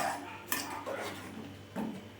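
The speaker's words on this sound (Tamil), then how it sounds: "ஒரு கரண்டி போட்டு கிண்டு கிண்டுறோம்" A metal ladle scrapes and clinks around a pot as boiling moringa soup is stirred, with soft bubbling and a steady low background hum.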